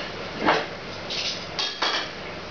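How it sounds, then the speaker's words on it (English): Well-browned pieces of veal shank for Italian ossobuco set back into a casserole dish on top of the other ingredients, heard as a few close clunks and scrapes of meat and utensil against the pot, with nobody talking. "Then I'm going to put the pieces of meat back on top."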